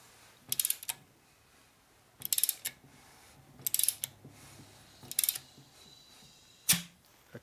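A 1967 Harley-Davidson 74ci shovelhead motor is turned over during assembly after a transmission rebuild. Five short, close bursts of hissing compression mixed with mechanical clicks are separated by quiet gaps.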